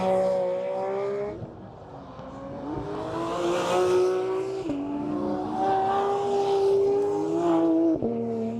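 Car engine droning and shifting on a race track, a Tuttle Porsche 911 held back from full throttle down the straight, with steady harmonic tones that drop at gear changes around every couple of seconds, close and continuous throughout.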